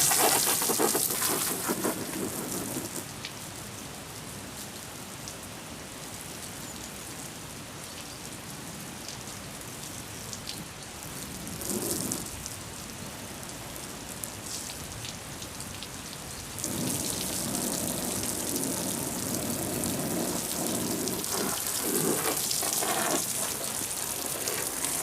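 Water pours from a hose onto the canvas hood of a Citroën 2CV as it is rinsed, a steady close spray and patter that swells and eases in several stretches, with no one speaking.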